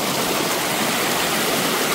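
A stream on a farm flows continuously with a dense, even rushing and splashing of water, close and steady throughout with no voices.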